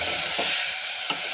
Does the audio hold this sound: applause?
no